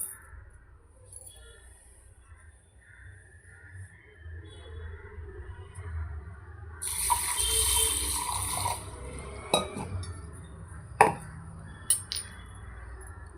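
Fenugreek seeds poured and soaked in water in a bowl: soft trickling and splashing of liquid for a couple of seconds, then a few light clinks from the bowl, with a quiet background.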